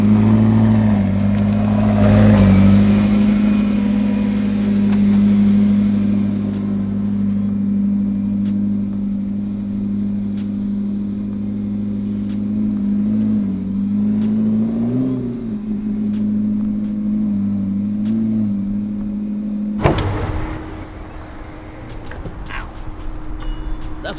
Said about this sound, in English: Now let's move some cars around.